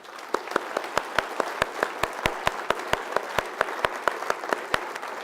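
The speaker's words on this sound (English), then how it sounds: "Please let's meet him with a warm applause." Audience applause greets a keynote speaker at a talk on social urbanism and education, with a bed of many hands clapping and some louder, steady individual claps standing out on top. The applause is moderately loud and continues throughout with no speech.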